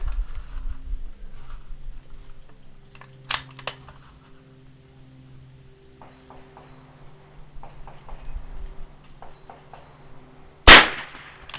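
Rimfire rifle shots during an NRL22 match stage on an outdoor range: a sharp crack early on and a louder, closer report near the end, separated by faint handling clicks and quiet background.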